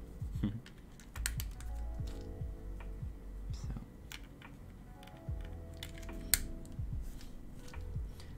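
Switches are tested while a Daisy 40 mechanical keyboard is being built, giving sparse irregular clicks and taps close up, with quiet talking in between.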